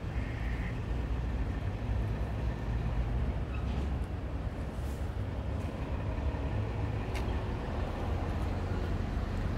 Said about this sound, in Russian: Это ИП-2К с пассажирским поездом